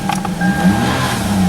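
A car with no battery cranks and starts on a GBB 500A portable jump starter, settling into a steady, close engine hum that runs throughout with no voices.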